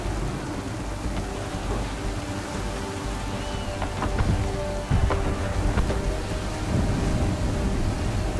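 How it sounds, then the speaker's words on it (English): A thunderstorm at sea in Assassin's Creed 3 brings steady heavy rain and wind with rolling thunder, and a sharper crack lands near the five-second mark. Faint voices sit low beneath the weather. "There's a storm coming, Captain. Feels like a big one."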